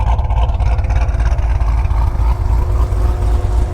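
A Lingenfelter-modified 2019 Chevrolet Corvette Grand Sport 2LT with a big cam rumbles loudly, its choppy, lumpy exhaust pulsing continuously and close throughout.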